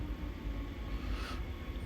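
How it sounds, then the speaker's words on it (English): Commuter train in Train Sim World rumbling steadily as it brakes to a stop, a low continuous rolling drone with a brief hiss of air partway through. "Let me stop the train."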